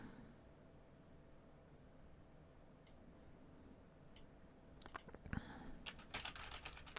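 Typing on a computer keyboard: sparse clicks at first, then a quicker cluster of sharp key taps near the end, close and fairly faint over a low background hiss.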